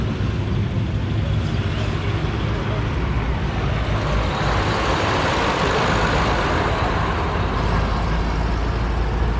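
A 1953 Scammell Explorer military truck rumbles loudly and steadily at close range, its heavy engine and road noise continuous throughout with faint voices in the background.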